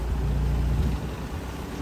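A gulet's engine rumbles low and steady while the wooden boat is brought in to dock in a narrow spot at sea, with a constant broadband wash of wind and water over the drone.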